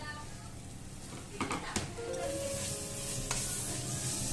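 Chopped tomatoes dropped into a pan of sizzling masala with curry leaves, a steady close sizzle with a few stirring scrapes and clatters, softly under a background hum.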